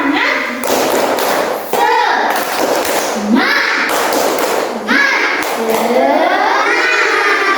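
Young schoolchildren in a classroom shout a chant while clapping and slapping in a patterned rhythm, loud close thuds and claps punctuating their excited group voices.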